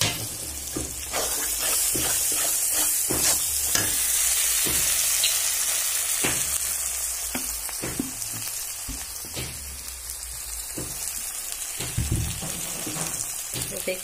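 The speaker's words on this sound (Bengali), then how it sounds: "লঙ্কা হলুদ সব ভালো হয়ে ভাজা হয়ে গেছে। এবার আদা বাটাটা দিয়ে দিচ্ছি।" Chilli and turmeric sizzling in hot oil in a pan as ginger paste goes in for chicken kosha: steady loud frying with scattered clinks and scrapes of stirring, easing slightly later.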